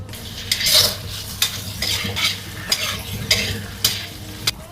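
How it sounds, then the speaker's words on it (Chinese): Soaked beef stir-fried quickly in a wok with ginger leaves, star anise, fresh ginger and scallion segments, giving a steady sizzle broken by repeated scraping strokes of a spatula roughly every half second. "泡好水的牛肉， 快速翻炒， 姜叶、八角、生姜、葱段"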